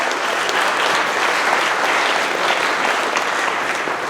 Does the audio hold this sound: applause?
yes